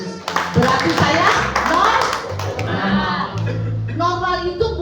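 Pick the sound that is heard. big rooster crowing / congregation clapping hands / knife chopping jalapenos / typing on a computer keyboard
congregation clapping hands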